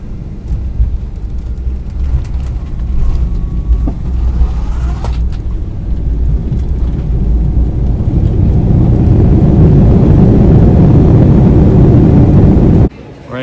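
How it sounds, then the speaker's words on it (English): Airliner landing at Chicago O'Hare, heard from inside the cabin as a loud, steady low roar that swells and thickens over several seconds before cutting off abruptly near the end. "Alright, landing in Chicago."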